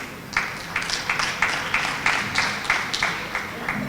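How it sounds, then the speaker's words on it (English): An audience claps during a Servicom Week event at the State House, with steady rhythmic claps from many hands over a low room murmur. "I'm looking at the people that are clapping"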